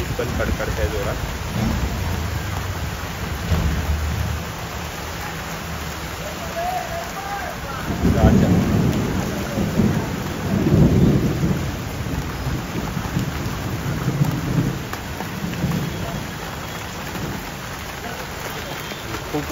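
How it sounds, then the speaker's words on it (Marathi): Thunderstorm with heavy rain over Mumbai: a steady wash of downpour runs throughout, with deep rumbling swells of thunder rolling in around the middle. "आणि वीज पण कडकडते जोरात."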